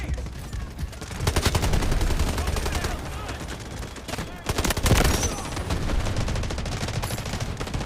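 Gunfire in the mobile shooter Delta Force Mobile, loud rapid bursts of automatic fire with a heavier blast near the middle, continuous for several seconds.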